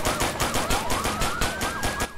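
Automatic gunfire in the combat game Arma 3, a rapid rhythmic burst of repeated shots carrying loud and steady across the whole stretch, with a rising siren-like wail running underneath.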